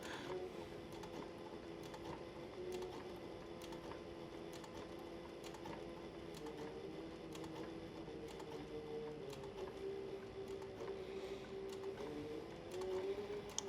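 A sewing machine stitches a border on a canteen purse, a quiet, steady mechanical hum with a regular ticking rhythm running continuously at close range.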